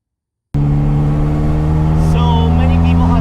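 A Ferrari F40 bursts in abruptly and holds a loud, steady engine drone from inside the car, its tones rising slowly as it pulls away. A voice sounds briefly partway through.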